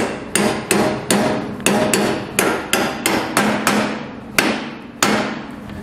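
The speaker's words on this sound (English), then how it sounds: "we're gonna hammer this in all the way till the back of the head is flush" A hammer drives a bolt into a metal plate while fitting a suspension bushing, striking about a dozen times in a steady rhythm, each blow a sharp ringing clang that decays before the next.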